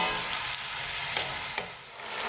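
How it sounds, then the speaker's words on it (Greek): Chopped onion sizzling in extra virgin olive oil as it is stirred, a loud continuous close hiss with faint scraping from the spoon and no voices. "Ρίχνουμε το κρεμμυδάκι μέσα και ανακατεύουμε συνέχεια μέχρι να μαραθεί."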